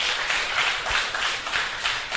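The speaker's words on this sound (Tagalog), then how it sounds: "Palakpak nga muna po sa Panginoon." A church congregation claps together in a sustained, steady burst of applause that fills the room, loud and continuous for the whole moment.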